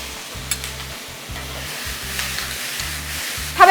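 Seafood, already fried, is stir-fried with crushed chili and garlic in a hot wok, giving a steady loud sizzle with repeated rhythmic scraping strokes of a spatula; no one speaks.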